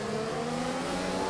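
Race car engine in a racing video game at Albert Park, holding a steady loud drone with layered harmonics, slightly rising as it accelerates.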